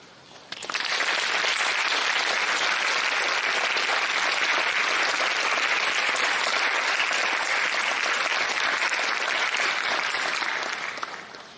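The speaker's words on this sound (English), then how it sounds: "Graduates, would you join me in a round of applause for the staff that have guided you through your qualification?" Graduates and guests at a graduation ceremony applaud the staff, a broad sustained round of clapping that starts abruptly, stays even and full for about ten seconds, then eases off.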